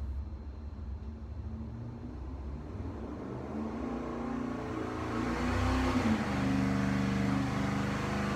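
A car engine runs on a dynamometer, its steady drone rising into a louder revving pull partway through, heard close with no talking.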